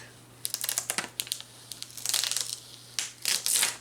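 Vinyl transfer tape being peeled at an angle off a Dollar Tree plate, close up: a series of short crinkly, crackling bursts in uneven clusters, quiet overall with a steady low hum beneath.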